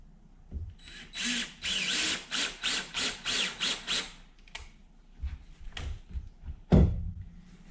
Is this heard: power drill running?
yes